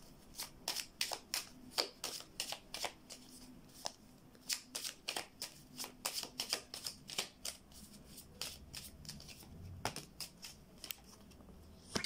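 Playing cards being shuffled by hand in a quiet room, a rapid run of crisp riffling snaps in quick bursts, close and fairly soft, with no talking.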